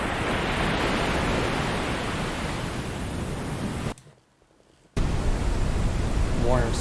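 The 'swell' sleep sound from Bose Sleepbuds II, a steady ocean-like wash of broadband noise, plays loud and continuous, cuts out for about a second, then returns.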